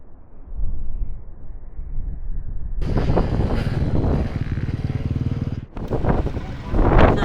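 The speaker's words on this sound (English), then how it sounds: "First little spin on the 450X, 450RX. Snuck a little early practice lap at the SRA here at Glen, Helen" A 450X dirt bike, 450RX, on an early practice lap at Glen Helen, its engine loud and close, rising into a hard rev after a quieter start, then dropping briefly before roaring back with some wind buffeting.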